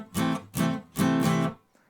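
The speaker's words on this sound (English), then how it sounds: "I'm actually doing a down and an upstroke, doing some 8th notes" Acoustic guitar strummed in eighth-note down and upstrokes for accompaniment: three bright, full chord bursts in quick succession, close and clear, with nothing else heard.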